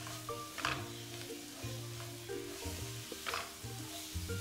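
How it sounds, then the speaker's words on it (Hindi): Radish paratha filling sautéing in a pan, a steady soft sizzle with scraping stirs and light clinks of a spoon, faint and close with no talking. "इसको हम इसमें ऐड कर देंगे और इसको हम 2-3 मिनट के लिए भून लेंगे, सौते कर लेंगे"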